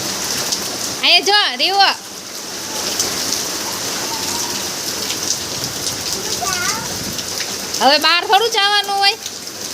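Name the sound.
rain falling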